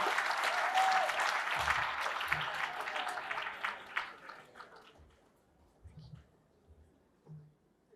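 Applause rises loud from an audience at a live event, then fades out over a few seconds, leaving scattered thumps and a few quiet voices in the room.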